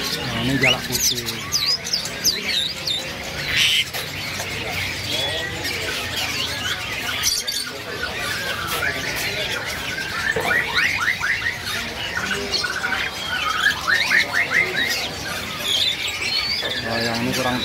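A white starling (jalak putih) calls with repeated chirps and whistles amid a chorus of other caged birds at a crowded bird market, with a voice talking intermittently over the birdsong.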